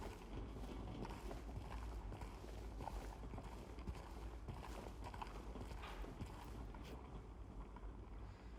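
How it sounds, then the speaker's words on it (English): Steady rumbling ambience with continuous clip-clop of hooves and rolling wheels of a horse-drawn carriage in Silent Hill 2 Remake's Wood Side area, fairly faint and even throughout, with wind noise in the background. "Sounds like a horse-drawn carriage or something."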